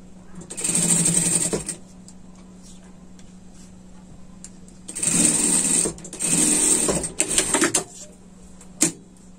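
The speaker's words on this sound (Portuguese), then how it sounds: "vamos passar uma costura aqui" A sewing machine stitches a seam on a pet sling bag in two loud bursts of fast, steady running, the first lasting about a second and the second longer and broken into short runs, with quiet pauses between.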